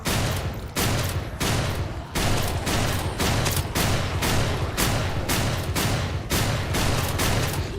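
Rapid gunfire in a hardcore permadeath shooter game, dense bursts of loud shots crackling almost continuously with brief gaps between volleys, nothing else audible over it.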